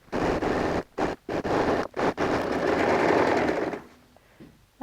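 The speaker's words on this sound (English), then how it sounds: "The edge stitching will be neat the same way like it is in the front of the bag as well." Sewing machine edge stitching a flap on a denim jeans handbag, loud close motor whir running in short bursts with brief pauses, then a longer continuous run that stops.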